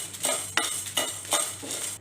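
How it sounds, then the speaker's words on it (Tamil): Chana dal and dried red chillies dry roasting in a pan over low heat, giving soft repeated scraping and rattling as they are stirred, with faint sizzle between strokes. "கடலைப்பருப்பு, வரமிளகாய் இதெல்லாம் போட்டு ட்ரை ரோஸ்ட் பண்ணிக்கலாம்."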